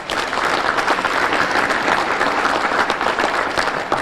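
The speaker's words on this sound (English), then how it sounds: "So give those folks a round of applause." Steady, dense applause from a crowd at a chamber of commerce luncheon, many hands clapping evenly at moderate loudness throughout without a break.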